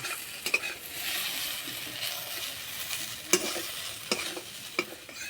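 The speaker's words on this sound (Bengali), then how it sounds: "এই যে বন্ধুরা ভাজা হচ্ছে যা সুন্দর একটা গন্ধ বেরিয়েছে" Bitter gourd fries in hot oil in a pan, a soft steady sizzle broken by a few sharp scrapes and clacks of a spatula stirring, close up and with no talking.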